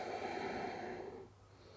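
Breath held steady through a high plank in a yoga core flow: a soft, close, airy exhale, fairly even for about a second before tapering off into quiet room tone.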